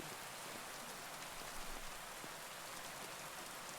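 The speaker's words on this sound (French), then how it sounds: "Un orage d'une intensité exceptionnelle. Rideaux de pluie battante, éclairs déchirant le ciel" Heavy rain in a violent thunderstorm with lightning and furious gusts, pouring steadily as a dense, even hiss with scattered drop impacts; no thunder clap stands out, and the downpour stays constant throughout.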